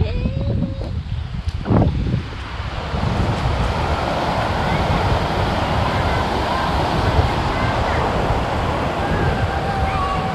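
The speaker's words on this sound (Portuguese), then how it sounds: "Olha que marzinho calmo, cara." Calm sea waves washing onto a beach in Bahia, Brazil, a steady close surf wash with broad rushing noise throughout, a brief louder splash early on.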